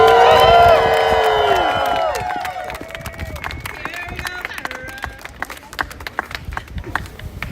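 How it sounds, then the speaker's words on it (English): Crowd at an outdoor rally for striking Starbucks baristas bursts into cheering, whoops and applause, loud at first and then fading to scattered claps and voices. "One more round of applause."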